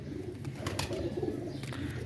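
A high flyer pigeon coos low and soft in a close, steady murmur with a few brief rustles over it.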